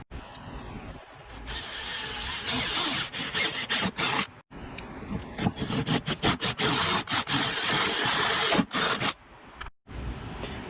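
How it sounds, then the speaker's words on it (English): A 1/2-inch bit bores a hole for a rivnut while a rear expedition tire carrier is fitted to a Jeep Cherokee XJ. Harsh, gritty drilling runs loud and close, broken by two brief pauses before the cutting resumes. "I'm going to go ahead and get started on drilling that hole"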